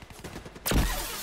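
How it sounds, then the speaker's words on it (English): A single loud burst of gunfire erupts suddenly after a quieter stretch of in-game ambience in Call of Duty: Black Ops III, ringing out briefly with a heavy low-end boom. "I heard someone shooting."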